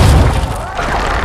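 A heavy siege ballista in The Witcher 2 fires with a deep booming thud at the start, followed by a rumbling, crashing tail that fades over about a second.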